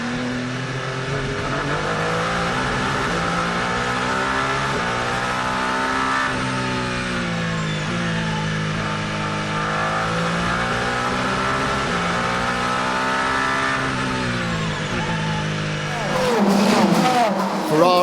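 Peugeot and Ferrari endurance race cars at the 6 Hours of Monza: a loud, sustained engine howl with pitch rising and falling through gear changes, ending in a harsher burst as a car passes close.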